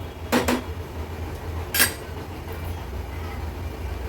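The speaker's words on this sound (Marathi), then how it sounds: "व्यवस्थित मिक्स करून घ्यायचं आहे।" A utensil scrapes and clinks against a pot while thin Agri Koli-style prawn curry with added water is stirred, two quick knocks near the start and another a moment later over a low steady background.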